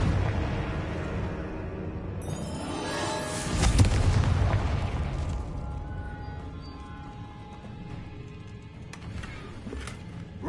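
Confringo blasting spell in the Hogwarts Legacy video game, a single rising whoosh building into a deep explosive boom that rumbles and fades, followed by quieter magical chimes and tones.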